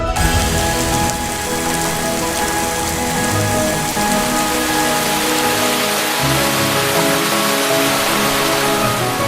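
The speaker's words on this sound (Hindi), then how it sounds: "पानी अब भी यहां बहुत बरसता है।" Heavy monsoon rain in Cherrapunji, Meghalaya pours steadily, a dense, loud hiss of water drumming on surfaces throughout.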